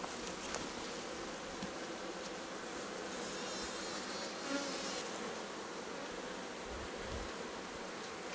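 Honeybees buzz steadily around an opened hive holding capped worker brood and fresh eggs, a dense continuous hum of many insects close by with no talking.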